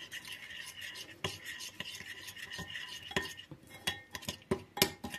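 A spoon stirring a thick vegan kokoreç sauce with oil and spices in a bowl, making repeated close scraping and clinking strokes in an uneven rhythm, with no talking.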